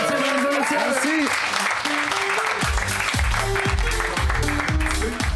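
Comedy-show audience applauding comedian Tommy Pelletier at a stand-up club night, a loud, dense wash of clapping throughout, with cheers and voices and a rising musical tone riding over it.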